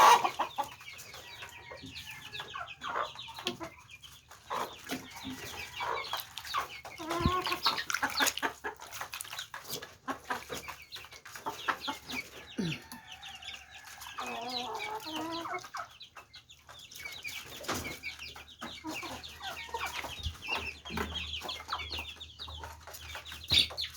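Backyard pet chickens cluck and murmur continuously, with scattered chick peeps and small rustles, fairly close and moderately loud, with no talk over them.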